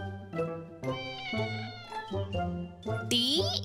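A cat meows several times in a row, with loud, close, drawn-out calls at a steady pace and a higher, rising cry at the end.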